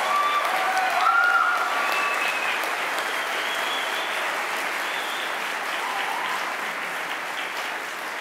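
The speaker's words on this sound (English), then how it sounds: "give one more hand and a round of applause for our Xavier University interns" An audience at a Project SEARCH graduation ceremony applauds for Xavier University interns, a steady, full round of clapping with a few faint cheers, holding loud and even for about eight seconds.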